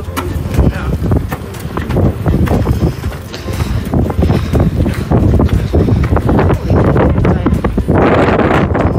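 Strong wind buffets the microphone near the summit of Cannon Mountain, a loud, constant rumbling roar with gusty surges throughout and a person speaking under it.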